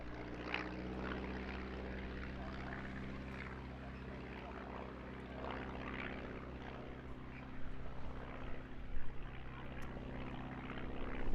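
A Stampe biplane's propeller engine drones steadily at a distance at an airshow in Eastbourne, its hum wavering slightly as the aircraft flies away, with faint wind in the background.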